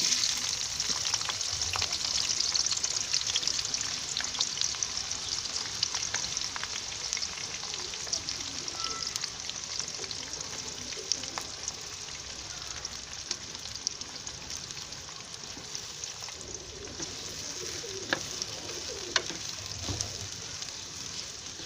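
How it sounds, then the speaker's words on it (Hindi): Sliced onions that were cut and washed fry in a pan where bitter gourd was just cooked, a steady fine sizzle running throughout at moderate volume with occasional stirring clicks and no voices. "अब हम इसमें डालेंगे प्याज"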